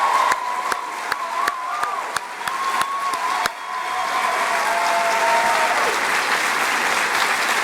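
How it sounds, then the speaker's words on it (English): Audience applause at a 2018 graduation ceremony, a dense clapping crowd with a few sharp claps standing out early, swelling into a steady roar that holds to the end. "Let's give all of those folks a round of applause."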